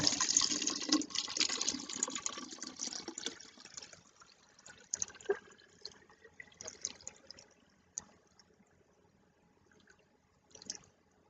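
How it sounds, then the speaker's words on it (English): Water is poured from one bottle into an already full one. A strong, steady gush at first tapers into scattered splashes and drips, and no voices are heard. "I'm going to dump the water into the full one just to show you that it's full."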